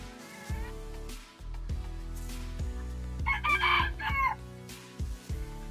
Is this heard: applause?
no